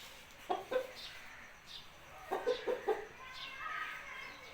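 An aseel rooster gives several short, soft clucks in small clusters, fairly close in a quiet yard at a breeder's home, with faint background noise between calls.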